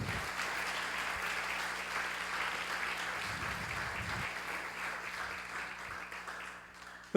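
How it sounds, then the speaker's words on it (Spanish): A church congregation applauds throughout, steady dense clapping at moderate distance with a low sustained hum beneath and no talk over it, thinning slightly near the end. "Dale un aplauso si tú lo crees."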